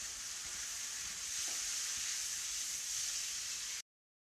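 Veg chow mein noodles tumbling into a pan of frying vegetables give a steady, close sizzle with soft stirring scrapes, then the sound cuts off abruptly.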